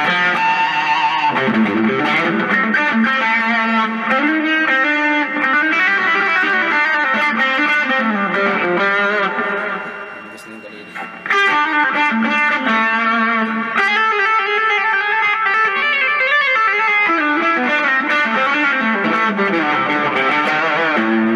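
Electric guitar played through an overdrive distortion pedal, set against a Boss DS-1 for comparison, ringing out thick, sustained distorted chords and riffs with a short pause midway.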